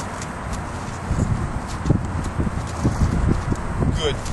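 A horse wearing a new saddle pad walks along, its hooves landing in a loose, even clip-clop rhythm close by, with soft rustling around the steps.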